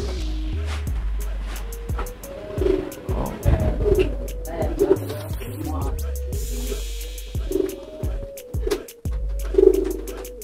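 Pigeons coo at a bird kiosk in Krasak village, Brebes, a string of low, repeated throaty calls close by, with the flock calling steadily throughout.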